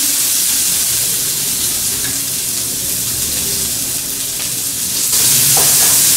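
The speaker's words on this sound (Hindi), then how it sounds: "अब हम इसमें प्याज डालकर प्याज को भून लेते हैं" Onions frying with cumin in a hot pan for arbi ki sabji (taro root curry), a loud, close, continuous sizzle with faint stirring scrapes that surges brighter near the end, with no voices.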